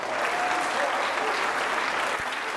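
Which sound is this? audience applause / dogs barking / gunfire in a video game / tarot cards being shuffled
audience applause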